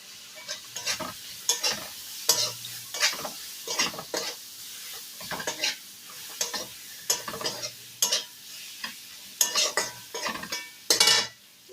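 Chopped tomatoes sizzle in a pan with turmeric and chilli-powder masala for a cauliflower kalia, while a spatula scrapes and stirs in quick repeated strokes over the frying hiss, close by and without speech.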